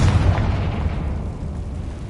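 The Confringo explosion spell in a wizarding video game, a loud, close boom that bursts at once and then fades into a rumbling decay over about two seconds.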